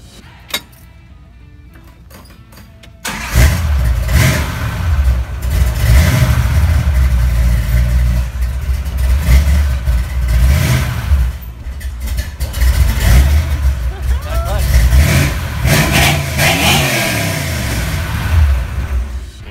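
A Mopar drag car with a freshly swapped clutch starts up and revs hard, its loud engine climbing through the gears in repeated surges before easing off near the end.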